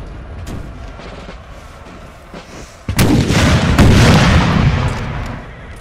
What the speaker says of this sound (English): My artillery just to blast them with canister shot, if that's what it takes.